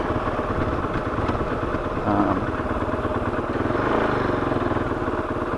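A KOVE 450 Rally motorcycle's single engine runs close by with a steady mid-pitched putter and small rises in revs, continuous throughout with no talking.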